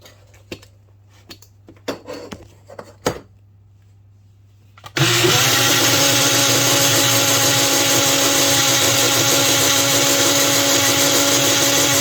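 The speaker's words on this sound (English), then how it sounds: "I like to blend it in my, well, it's not a bullet, but bullet type blender." A few light clicks and taps come first. Then a bullet-type blender starts abruptly on heavy whipping cream and runs at a loud, steady, high whir until the end.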